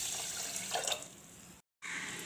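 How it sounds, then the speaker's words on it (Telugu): Rice is rinsed with water inside a pressure cooker, a close, continuous splashing and sloshing of running water, briefly cut off before resuming. "కుక్కర్లో బియ్యాన్ని పోసుకొని కొంచెం వాటర్ పోసుకొని శుభ్రంగా రెండుసార్లు కడుక్కోవాలి"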